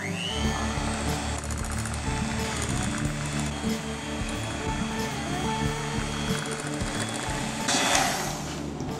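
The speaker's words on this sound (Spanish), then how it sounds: "Batiremos solo un poco, nada más es que se integren estos ingredientes" An electric hand mixer beats banana bread batter of mashed banana and butter, a continuous whirring drone with steady mechanical buzz, moderately loud throughout.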